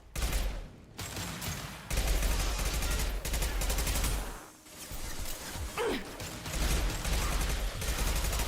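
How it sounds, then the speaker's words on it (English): Heavy weapon fire from the concussive shot ability in Mass Effect Legendary Edition, with repeated loud bursts and gunfire crackle over a dense battle din, plus a brief whooshing sweep near the end. "Firing concussive shot."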